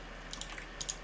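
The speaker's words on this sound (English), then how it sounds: "typing" A few soft keystrokes on a computer keyboard while entering quiz answers, a short irregular run of quiet clicks in two small clusters against a faint steady background hum.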